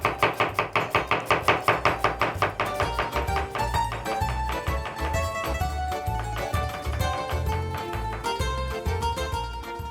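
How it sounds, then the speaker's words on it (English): A knife chops half an onion thinly on a board in quick, even taps, first rapid and crisp, then settling into a steadier rhythm of close, clear knocks. "Now it's time to chop that very thin as well."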